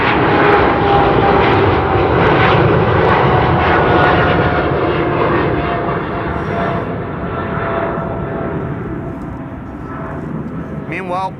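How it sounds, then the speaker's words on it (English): Emirates airliner's jet engines roaring loudly at Amsterdam Schiphol Airport, a steady broadband rumble that slowly fades as the plane passes, with a faint whine and talk underneath. "Big Bird of Emirates, flight 146 on its way to Dubai probably?"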